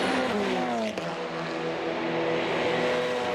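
Hyundai race cars, an Elantra N, Veloster N and i30N, scream past on a track in close succession, engine notes climbing and falling as they sweep by, loud and continuous.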